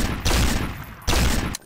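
Plasma pistol fire in the video game Gnomes: two loud, sustained bursts of rapid gunfire, each lasting nearly a second and separated by a short drop in volume.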